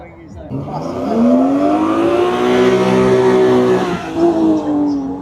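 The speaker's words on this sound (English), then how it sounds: "lovely V8 engine sat behind him there" A powerful V8 race car engine revs up loudly and accelerates at a hillclimb event, pitch climbing steadily over several seconds, close and roaring.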